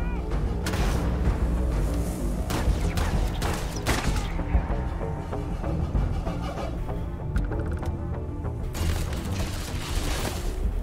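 Heavy explosions and gunfire from combat against robots in the space role-playing game Starfield, a dense barrage of booms and shots that runs loud and continuous with brief gaps.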